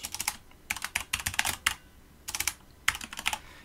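Bursts of quick typing on a computer keyboard during a Java programming lesson, clattering keys in short irregular runs separated by brief pauses, close and clear with no talk.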